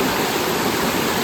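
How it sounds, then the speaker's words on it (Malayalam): A natural waterfall in the countryside pours out a steady, dense roar of rushing water, heard close and loud without break for the whole moment. "നമ്മൾ വെള്ളച്ചാട്ടം കണ്ടുപിടിച്ചു."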